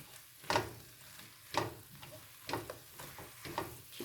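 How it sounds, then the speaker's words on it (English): A spoon stirring thickening apple pie filling in a pot, with regular scraping strokes about once a second, close and moderately loud, with a soft sizzle underneath. "Keep stirring. You want to make sure the starch thickens well."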